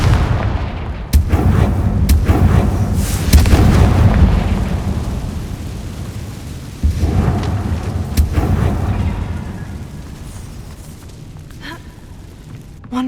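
Fiery Confringo spell blasts in Hogwarts Legacy, heavy booming explosions rolling through the opening seconds, another burst near the middle, then a fading rumble that settles toward quiet.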